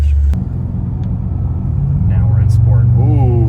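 Deep rumble of a 700 HP V8 drift car engine idling and pulling low, with a brief sharp burst early on, then rising harmonic exhaust tones as the exhaust flap opens, loud and close under people talking.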